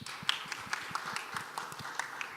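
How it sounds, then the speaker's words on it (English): Scattered hand clapping from a conference audience at a blockchain congress, a light patter of individual claps spread evenly across the moment, fairly thin and not very loud, with no voices over it. "Give him a round of applause."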